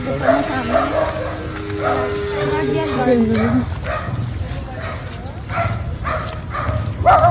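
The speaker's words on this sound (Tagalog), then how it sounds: "kaninong aso ito?" A dog close by gives short barks, yips and whimpering whines. People talk over it the whole time.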